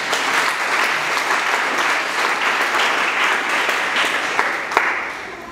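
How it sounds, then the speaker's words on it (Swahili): A church congregation bursts into sustained applause during a sermon, dense continuous clapping from many hands, loud and even throughout with a few sharper claps near the end. "Mpe Yesu makofi mengi."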